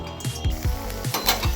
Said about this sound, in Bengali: এবার পটলগুলো দিয়ে দেবো।